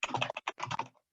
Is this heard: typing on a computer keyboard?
yes